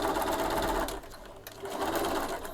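A sewing machine runs in quick bursts, stitching flannel lining to oilcloth with a steady mechanical whir, broken by a brief pause midway before it picks up again close to the microphone.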